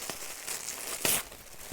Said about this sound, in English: So I'm sorry for all the rustling.